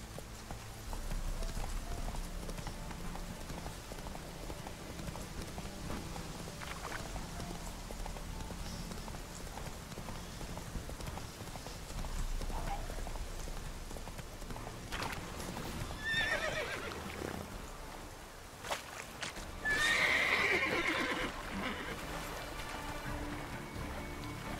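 Horse hooves clip-clop steadily along in The Witcher 3, with rain and ambient game sound underneath and a sharp neigh rising near the end, moderate and close, with no talking.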